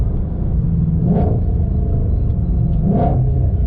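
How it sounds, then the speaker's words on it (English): A 2021 Ford Mustang Shelby GT500 exhaust blips twice on downshifts, sharp revving surges over a steady deep engine rumble heard from inside the car, loud and close, with no talking. "I just love that exhaust."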